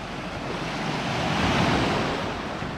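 Sea surf rolling onto the shore of a bay on a rocky cape after a storm, a steady broadband wash of breaking waves that swells slightly mid-way, with some wind buffeting the microphone and no voices.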